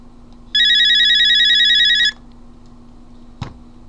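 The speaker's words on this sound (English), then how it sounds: "Sorry about that phone call." A telephone rings in one long electronic trill for about a second and a half, loud and close, followed by a brief click.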